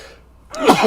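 A single sharp sneeze bursts out close to the microphone after a brief quiet moment, short and loud.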